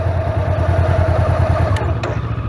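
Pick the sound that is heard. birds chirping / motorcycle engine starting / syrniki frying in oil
motorcycle engine starting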